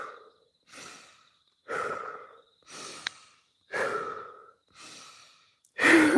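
Deep, slow breaths in a calm setting, about seven drawn-out exhales and inhales in sequence, each a soft breathy rush separated by brief silences, close to the microphone.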